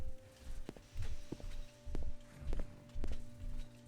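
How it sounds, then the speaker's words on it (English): Heavy stomping footsteps from a creature behind a door in the video game Morrowind (Tamriel Rebuilt), about six muffled, evenly spaced thuds over a steady low hum. "I can hear something stomping around behind that door."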